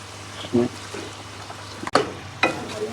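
Boiled spinach is stirred in a frying pan, giving soft sizzles and a few sharp scraping bursts of the spoon against the pan, close by and intermittent.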